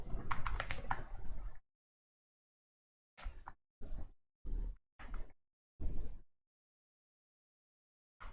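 Typing on a computer keyboard comes in short, separate bursts of clicking, first a longer run, then several quick clusters broken up by stretches of silence.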